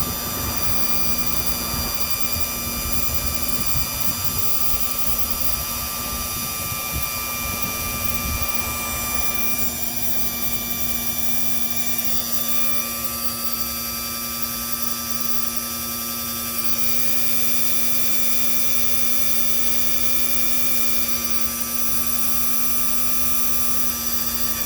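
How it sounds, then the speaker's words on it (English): Electric hydraulic pump on a 1961-1965 Lincoln Continental driving the convertible top rams outward, a steady close whine with fixed tonal hum that runs continuously, shifting slightly partway through, with no talk. "I'm going to touch the yellow wire that goes directly to the pump. You'll see the rams coming out."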